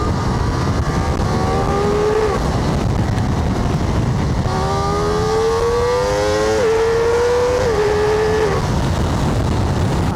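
A Ducati Multistrada V4 RS motorcycle engine revs hard through rising pitch sweeps with quick upshifts, loud and close over steady wind and road roar, with no talking.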